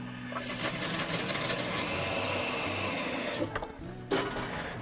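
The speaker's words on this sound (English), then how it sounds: "A little bit of water going." Tap water running into a pan with laundry soap, used for soaking saw blades, a steady close rushing stream that continues for several seconds before cutting off abruptly near the end.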